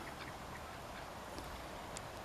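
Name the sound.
ducks quacking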